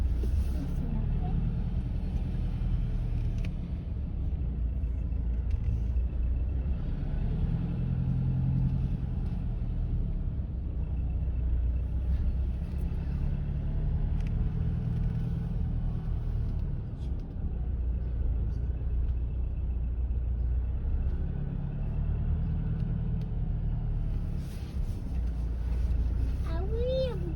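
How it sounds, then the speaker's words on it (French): Many trucks at a truck festival on the Atlantic coast rumble with a steady low engine drone, idling and passing motors layering together while people talk in the background throughout. "Ah oui, il y a beaucoup de camions."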